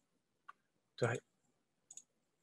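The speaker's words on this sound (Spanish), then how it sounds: "Hago clic en expense." A computer mouse gives a few faint, isolated clicks, widely spaced, around a brief burst of louder sound in an otherwise quiet room.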